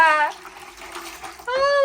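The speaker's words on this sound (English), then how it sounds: "first I pour in the hot water" Hot water poured into a tub for an outdoor bath, a close splashing gush that starts, pauses and resumes, while a child babbles in the background.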